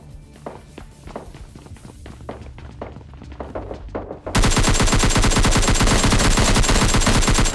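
Gunfire in PUBG Lite during close combat, with an Mk14 and S12K in play: footsteps and scattered thuds give way to a sustained, loud burst of rapid automatic shots filling the last three seconds.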